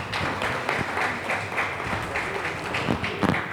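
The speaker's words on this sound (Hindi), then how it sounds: "एक बार मंजरी जी के लिए जोरदार तालियां।" Loud, sustained clapping from an audience welcoming a guest at an event in a hall, a dense continuous patter with a few sharper individual claps standing out.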